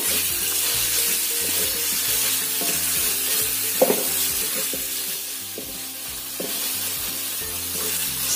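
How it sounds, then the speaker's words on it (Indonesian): A spice paste with bay leaves, lime leaves, lemongrass, ginger and galangal sizzles steadily in a pan. Intermittent scrapes and stirring strokes sound close and clear over the constant frying hiss. "Tumis sampai matang atau tercium bau enak."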